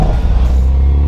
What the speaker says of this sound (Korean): 이것이 바로 팝 사운드입니다.